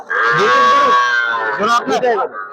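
A single loud, drawn-out moo from a cow close by at a cattle market, rising and then wavering before it fades.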